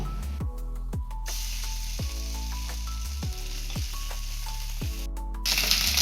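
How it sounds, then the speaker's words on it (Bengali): Ginger paste fries in a little oil with a steady, moderate sizzle and hiss, accompanied by scattered light clicks and a faint musical tone in the background. "আদা বাটাটা ভেজে নেব একটু তেলে"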